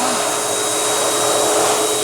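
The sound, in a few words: commercial wall-mounted high-speed hand dryer running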